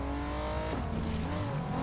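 A car in the Fortnite video game drives along with a steady engine drone that shifts pitch as it revs, moderately loud and continuous, with no talk over it.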